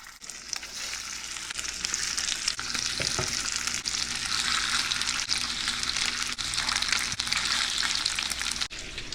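Speared fish fry in hot butter in a preheated pan, a loud, close, steady sizzle with occasional stirring clicks and no talking.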